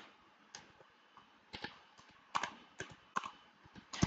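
Someone types on a computer keyboard, scattered clicky keystrokes in small bursts with gaps between them, close and fairly quiet, without talking.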